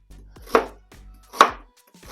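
A knife chops through ginger on a cutting board, three crisp, evenly spaced strikes with quiet gaps between them.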